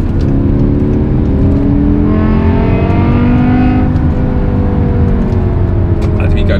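A BMW M5 E61 Touring's V10 engine pulls hard under acceleration, its loud, close howl climbing steadily in pitch across several seconds.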